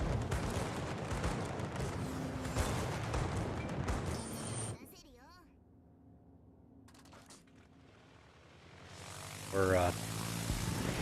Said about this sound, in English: Get my torpedo bombers in the air.